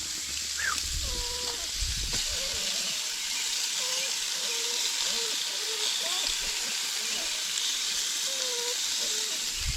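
A thin-cut steak sizzles on a campsite grill in the Boundary Waters of northern Minnesota, a steady close hiss running throughout while someone talks over it.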